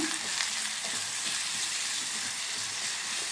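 Onion frying in oil with turmeric and salt for a boondi kaju curry, a dense, even hiss of sizzling that holds steady throughout at moderate volume, with no talking.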